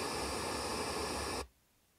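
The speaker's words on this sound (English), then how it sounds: "you can play some test static sounds. I'll play what that sounds like here through the Mac Mini speakers" Test static from the macOS Audio MIDI Setup speaker test plays through Mac Mini speakers, a loud steady hiss of white noise for about a second and a half before cutting off abruptly to near silence.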